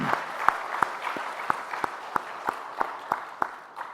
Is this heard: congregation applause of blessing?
yes